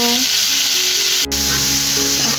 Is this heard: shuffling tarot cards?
no